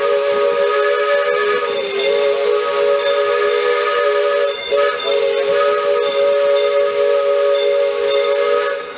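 Loud, sustained steam whistle of the Disneyland Railroad locomotive Fred Gurley #3, heard while riding behind it: a steady multi-tone chord with hiss, holding for about nine seconds with slight dips partway through.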